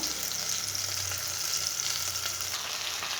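Ingredients fry in a pan with a constant, even sizzle, close and moderately loud, with a faint low hum running beneath and no talk.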